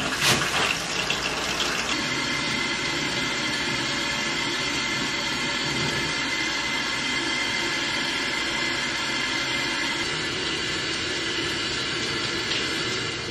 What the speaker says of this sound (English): It's finally time to take a shower and wash this hair.